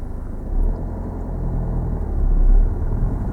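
A car driving on during a driving lesson, heard from inside as a steady low engine and road rumble that swells slightly as it pulls away, with no talking.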